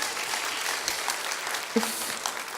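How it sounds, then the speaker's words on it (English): Applause from the audience at a simulated pre-audit committee meeting, a steady broad wash of clapping held at moderate level for the whole stretch with no talk over it. "A round of applause once again for Mahendra and Mudlik."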